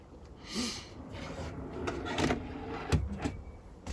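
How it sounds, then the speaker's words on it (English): A small push-button drawer slides open inside a camper van under construction. There is a soft click, then a sliding rumble, then a few light knocks, all close by. "A little drawer in here, push button, slide to open."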